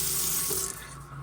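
Bathroom sink tap in a Las Vegas timeshare suite runs with a close, steady splashing gush, then tapers off as the flow is cut near the end; no talking.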